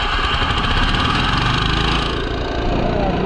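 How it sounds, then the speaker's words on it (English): An air compressor for semi truck steer tire work runs loud and close with a steady chugging engine drone, continuous throughout with no speech. "And then go ahead and start that compressor up."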